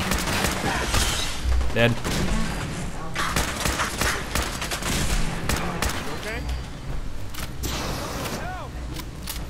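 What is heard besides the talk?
gunfire in the video game Fallout 4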